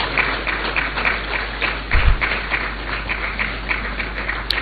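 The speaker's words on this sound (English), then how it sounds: "encourage them with a round of applause" A crowd at a memorial ceremony for the Omane Boama family breaks into steady, sustained applause, a dense wash of clapping that holds at an even level throughout.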